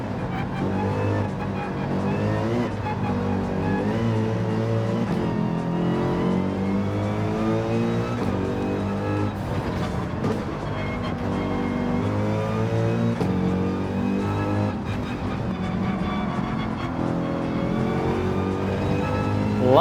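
A Mercedes-AMG race car in Gran Turismo 7 drives with a steady, droning engine note that rises and falls as it slides around corners, continuous and moderately loud with no talk.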